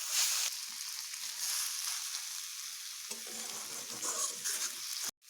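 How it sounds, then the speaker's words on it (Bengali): Chopped taro (arum) leaves fry and sizzle in a pan, a steady close hiss with occasional stirring scrapes and clatters, ending in a brief sharp knock. "আমি এইভাবে আরও একটুক্ষণ ভেজে নেব যত বেশ ভালোভাবে ভাজবো কচুর শাকের যে চুলকানো ভাব থাকে সেগুলো থাকবে না"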